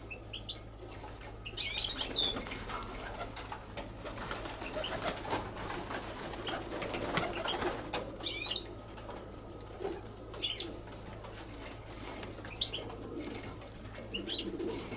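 Tumbler pigeons released outdoors on Santorini, with wings flapping, coos and chirps scattered over a steady background hum for fifteen seconds, some flaps close and others farther off.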